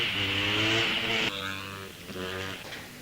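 A KTM SMR motorcycle launches off the line at a hillclimb, its engine howling loud and close at high revs, then dropping as it shifts up and pulls away.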